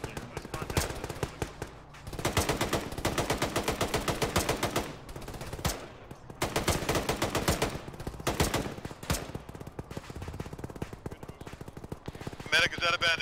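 Sustained bursts of automatic gunfire in a military video game, loud and rapid, broken by short pauses, with voices talking over the shooting.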